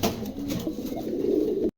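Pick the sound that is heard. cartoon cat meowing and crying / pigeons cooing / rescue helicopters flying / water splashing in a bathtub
pigeons cooing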